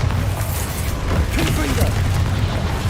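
A Bombarda explosion spell in Hogwarts Legacy lands as a loud, booming rumble with crackling debris, mixed with game voices.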